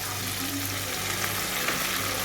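Chilli chicken frying in a pan, a steady close sizzle with faint crackling that runs evenly throughout with no talk.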